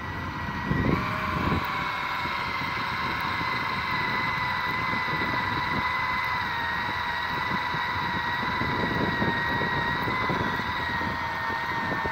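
A cordless drill motor driving a fishing reel while fishing for bonito with a Rapala lure, a steady whining hum with stable pitch running continuously over ambient outdoor noise.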